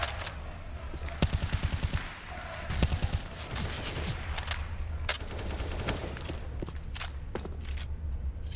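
Counter-Strike gunfire on the Nuke map during a pro match, several bursts of rapid automatic fire and single shots spread over a few seconds, fairly faint against game ambience and footsteps.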